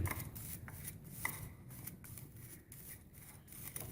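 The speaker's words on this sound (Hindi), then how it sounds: "अब मैं इन सब चीज़ों को मिक्स करने लगी।" Salt, garam masala and spices are mixed together for aloo gobi in a rhythmic series of soft, close scrapes and gritty stirring strokes, repeated steadily and at a low level, with no talking.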